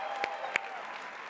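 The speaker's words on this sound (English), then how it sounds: "Give yourselves a round of applause for being here today." A brief burst of audience applause at a convention opening ceremony, many hands clapping in a large room with a couple of sharper, closer claps standing out.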